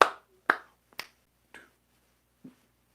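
Single hand claps keep a slow beat, five sharp close strikes about half a second apart with a longer gap before the last, fading quieter.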